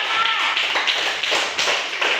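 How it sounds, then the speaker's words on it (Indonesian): A classroom of students claps for a student group, a burst of brisk, fairly close hand claps with uneven rhythm, lasting a couple of seconds. "Kita tepuk tangan dulu untuk kelompok Global."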